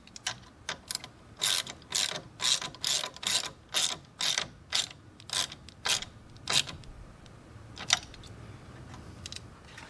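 Ratchet wrench tightening a 10 mm nut on a car battery terminal, giving a quick run of crisp clicking bursts, then a few slower clicks, close up with no talking.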